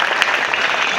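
A school audience claps loudly and densely at a training camp held in a college hall, a thick, continuous roar of hands with a few sharper claps standing out, heard close by.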